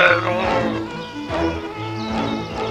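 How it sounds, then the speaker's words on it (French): Buzzing of a cartoon mosquito character, a wavering whiny drone that rises and falls in pitch over a few seconds, close and prominent, with other sounds faintly underneath. "pathétique, hyperbolique, c'est Tanguy le moustique"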